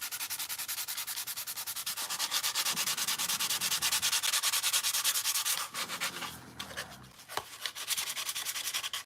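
A wooden part for a Mars Lander model is sanded by hand with rapid, even back-and-forth strokes, a loud close rasping that runs steadily, then briefly pauses and resumes near the end.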